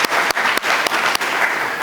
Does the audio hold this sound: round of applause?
yes